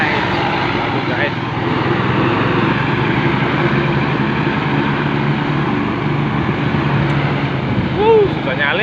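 A bus engine drones loud and steady while chasing a Basuri intercity bus and struggling to overtake it on an Indonesian road, with continuous road and engine rumble and people talking over it.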